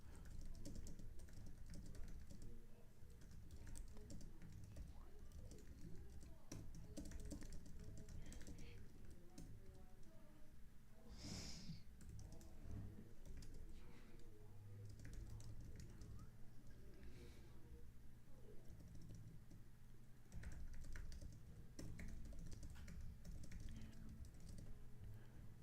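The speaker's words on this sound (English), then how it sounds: "But I'm typing out my notes." Soft, quiet tapping of a computer keyboard as notes are typed during a stock-market live stream, an irregular clatter running through the clip with occasional faint voice in the background.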